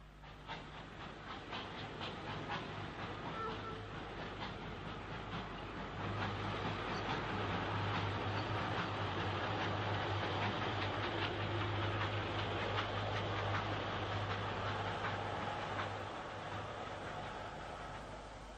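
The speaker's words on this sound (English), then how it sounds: "A Patriot Class 460 speeds through on an up express." An LMS Patriot Class steam locomotive races past at Crewe South hauling an up express in the 1950s or 60s, a loud sustained rumble and rhythmic clatter of carriages building to a peak and slowly fading away.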